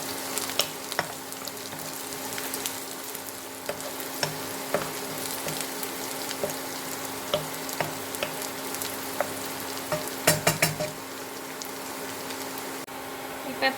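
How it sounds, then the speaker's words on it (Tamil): Snake gourd sautés in a pan until brown, with a continuous close sizzle and repeated scraping stirs, including a louder cluster of clatter partway through. "இப்போ இதை நல்லா சேர்த்து வதக்கிக்கலாம்"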